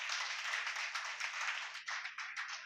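A church congregation clapping together, a dense, fairly faint wash of many hands heard from a distance, sustained throughout with slight surges.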